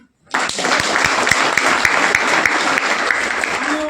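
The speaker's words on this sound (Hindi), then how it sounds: "जोरदार तालियां" Loud applause from a seminar audience for a senior leader being introduced at an RCM business event, dense clapping with sharp individual claps standing out, starting abruptly and holding steady to the end.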